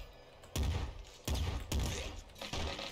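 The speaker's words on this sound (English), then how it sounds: "So I can shoot one at a time with machine gun." Machine gun in Nuclear Throne fired one shot at a time, four sharp, punchy bursts spaced about a second apart, each with a short booming tail, loud and close with no talking.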